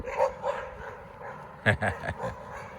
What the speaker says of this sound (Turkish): Şu iki tane köpek beni ne korkuttu ya. Abi bir tane daha geliyor orada.